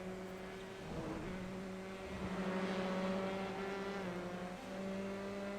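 A Dallara F3 race car leaves the pits at Oulton Park, its engine droning in sustained tones that dip, then rise again as it pulls away, heard at moderate distance with no voices.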